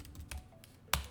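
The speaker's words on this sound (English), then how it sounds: "Again, you just type in Amazon listing," Typing on a computer keyboard: a few quick, soft key taps close by, with one sharper keystroke at the end.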